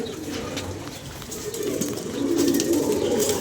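Pigeons coo steadily on a rooftop, their low, rolling calls close and layered over a soft background hum, growing a little louder toward the end.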